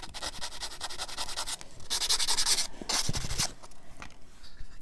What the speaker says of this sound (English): I just sanded down some of the high spots